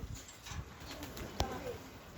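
Pigeons coo softly in a loft, a few low, faint calls with light rustling and a brief sharp knock.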